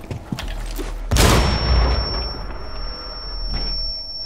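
Shotgun blast in the Rainbow Six Siege game on the Skyscraper map, a single loud, close boom with a long rumbling tail, followed by fainter game noise and a thin steady tone.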